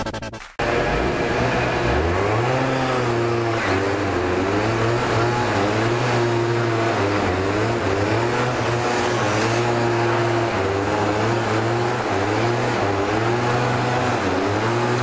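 A scooter engine revs hard and steadily while drifting, a loud close motor drone with rising and falling pitch that continues without a break, preceded by a brief knock at the start.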